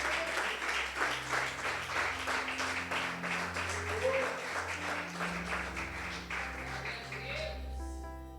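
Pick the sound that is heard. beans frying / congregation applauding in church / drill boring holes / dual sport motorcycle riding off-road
congregation applauding in church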